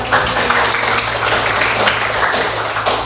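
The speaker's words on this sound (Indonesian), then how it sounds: "Oke, kasih tepuk tangan." Classroom applause from students, a steady patter of many hands clapping for a few seconds at moderate volume.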